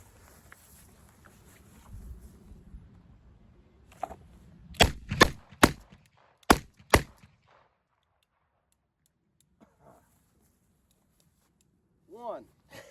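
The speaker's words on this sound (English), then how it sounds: "now I got the target taped up, so we're actually going to try to put some rounds on target." Five sharp gunshots ring out in an uneven sequence at an outdoor range with a taped-up target, loud and close, after a stretch of low background rumble and before a quiet tail with faint voice.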